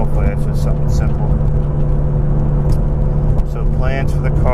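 A turbocharged 1999 BMW Z3 M Coupe idling steadily with a constant low engine drone, while someone talks over it nearby.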